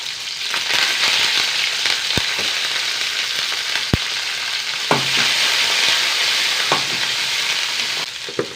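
Shallots, dried chilies and curry leaves frying in hot oil in a pan, a loud, steady sizzle with occasional sharp clinks and scraping stirs of a utensil throughout.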